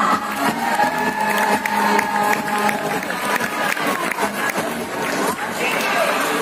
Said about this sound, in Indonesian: mari kita sambut dengan tepuk tangan paling meriah